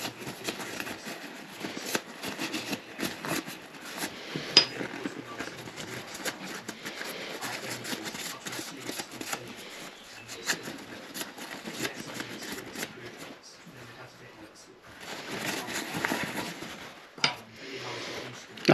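Kitchen paper rubs and scrapes across road bike hydraulic disc brake pads as both sides are wiped, producing irregular soft rustling and scratchy bursts, close up with no talk.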